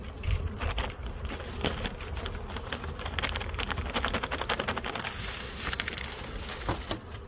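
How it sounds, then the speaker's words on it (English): Honey bees in a hive topped with a fondant pack, a dense, steady buzzing swarm heard close and fairly loud, with scattered crackling and rustling of frames throughout. "a lot of bees in it"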